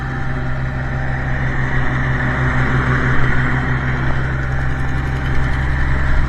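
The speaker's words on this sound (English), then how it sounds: "It's got a little exhaust manifold leak. Number 1 cylinder." A Minneapolis Moline G900 LP tractor engine idles steadily and close by, with a small exhaust manifold leak at the number 1 cylinder, giving a loud continuous rumble with no speech over it.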